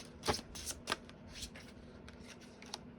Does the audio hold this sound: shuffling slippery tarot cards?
yes